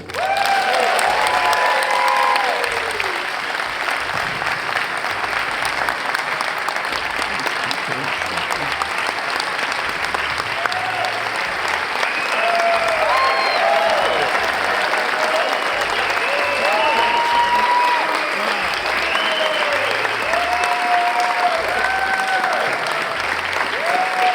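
Audience at a Beach Boys film world premiere breaking into sustained applause and cheering, loud and continuous with whoops and shouts rising over the clapping.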